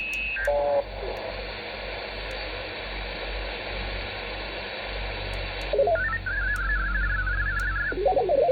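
A Malahiteam Mlite 880 receiver tuned to the 40-meter amateur band gives steady hiss and static, with brief tones and a warbling carrier that comes in partway through, heard alone without talk.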